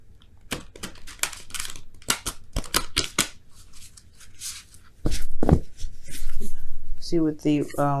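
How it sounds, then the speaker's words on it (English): Large tarot cards shuffled by hand, crisp papery riffles and slaps coming in uneven bursts close up, followed by a voice speaking. "Okay, one more shuffle that way"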